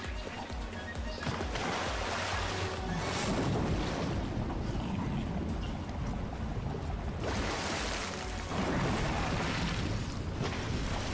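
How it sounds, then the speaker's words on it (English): Rising water and waves in Ratchet & Clank, a loud continuous rushing wash with surging swells, dense and close throughout. "the water is rising"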